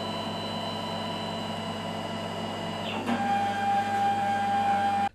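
A 3D printer running for additive manufacturing in a digital dentistry centre, a loud steady mechanical hum with sustained whining tones that shift pitch slightly partway through, continuous until an abrupt stop at the end.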